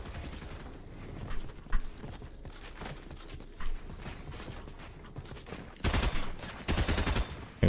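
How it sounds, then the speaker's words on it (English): Gunfire in a Fortnite 2v2 Zone Wars match: scattered distant shots give way to two loud, close bursts of rapid fire near the end. "He's trying to shoot me."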